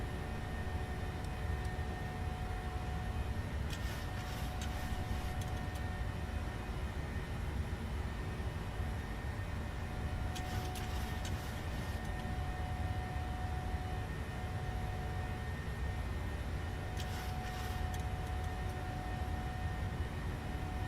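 Steady cockpit drone of a Boeing 737-800 in flight in Microsoft Flight Simulator, a constant engine and airflow hum with faint periodic clicking bursts, no talk.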